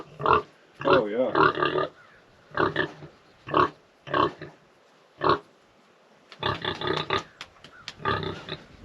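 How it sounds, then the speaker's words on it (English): A farm pig grunts in a series of short, close bursts with brief pauses between them, then a denser cluster of snorting grunts toward the end, against a quiet outdoor background. "Here, pig, pig, pig. Here, pig, pig, pig."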